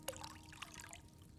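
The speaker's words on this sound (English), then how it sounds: "Start out by adding water to the cauldron." Water pours into an alchemy cauldron in Kingdom Come Deliverance 2, a short, quiet trickling splash lasting about a second and a half.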